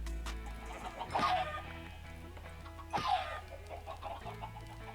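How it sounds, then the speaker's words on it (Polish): Chickens cluck in Minecraft, two short bursts of clucking a couple of seconds apart over quiet background music. "Dobra, kurczaków na razie powinno starczyć."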